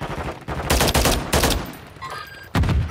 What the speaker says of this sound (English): They're shooting across the room.